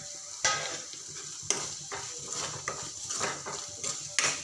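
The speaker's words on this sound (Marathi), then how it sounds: "तर आपले मसाले छान असे मस्त परतले आहे एक बारीक चिरलेला टोमॅटो घालते" Spices and finely chopped tomato sauté in a pan for an eggplant curry, a close steady sizzle punctuated by sharp spoon-on-metal clinks and stirring scrapes at irregular intervals, with no talking.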